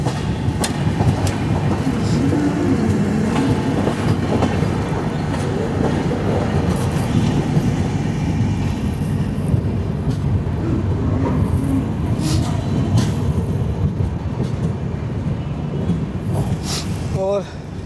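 The Saurashtra Janta Express from Veraval to Bandra Terminus runs on rails near Chorwad Road, a loud, continuous rumble with rhythmic clickety-clack of wheels over joints throughout.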